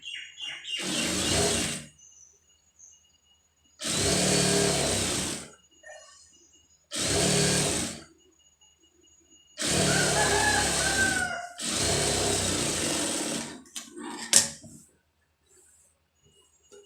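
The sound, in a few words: sewing machine stitching a lining blouse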